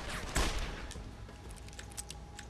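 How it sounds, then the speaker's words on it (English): A single gunshot in Deus Ex: Human Revolution fires near the start as one loud, sharp burst, followed by quieter in-game ambience with a few faint clicks. "But then I'll go ahead and shoot him."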